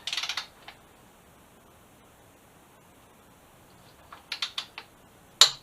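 A torque wrench ratchets a motorcycle lift bolt up to 36 foot-pounds. A quick cluster of close clicks comes first, then a quiet pause, then another run of clicks ending in a sharp snap.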